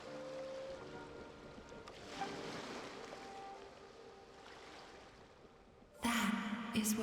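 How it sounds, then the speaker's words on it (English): Ocean waves in the video game Genshin Impact wash softly and continuously in the background, a faint rolling surf that swells gently before a louder, brighter burst of sound near the end. "Go to where you can hear the sound of the waves."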